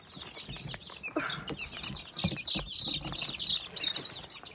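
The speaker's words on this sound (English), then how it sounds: "These two are my chicks." Pet chicks, grown large, clucking up close in a steady stream of soft, throaty calls with some faint wing rustling.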